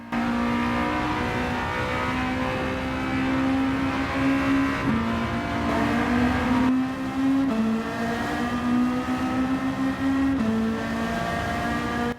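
A 400-horsepower Honda Integra Type R with a B-series engine revs in Gran Turismo 7, a loud steady engine drone whose pitch rises and dips through several gear-like swells, with no talk.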